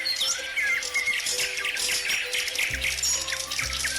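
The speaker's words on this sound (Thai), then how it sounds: "นกบินมาทำหน้าเป็นนกหัวมันทางงกร้องจิ๊บจิ๊บจิ๊บ ฉันคือนก" High, bird-like chirps and tweets in a children's animal-sound dance song, with musical backing and a low bass line entering partway through.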